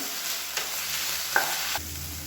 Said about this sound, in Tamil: இதையும் சேர்த்து நல்லா வதக்கி வச்சுக்கலாம்.